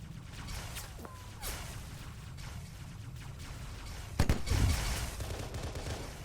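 Gunfire aimed at the player in a military shooter game, low steady background rattle of distant shots with a louder close burst of fire near the end.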